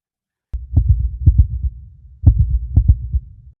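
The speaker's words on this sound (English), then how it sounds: "So quiet he could hear his own heartbeat." A heartbeat sound effect thumps in low, booming lub-dub pairs, several beats in a steady rhythm with a brief gap partway through, alone with no talk.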